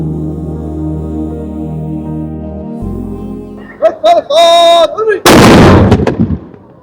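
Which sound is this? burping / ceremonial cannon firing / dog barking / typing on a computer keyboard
ceremonial cannon firing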